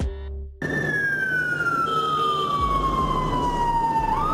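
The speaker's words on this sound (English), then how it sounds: "Neonatal ambulance." A neonatal ambulance siren wails after a short opening burst, then settles into one long, loud tone that slowly falls in pitch over several seconds, with a low vehicle rumble underneath and no talking.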